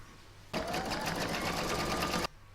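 An electric sewing machine stitches around an owl-shaped hair barrette for a steady stretch of nearly two seconds, with a fast, even, close-up mechanical whir that starts and stops abruptly.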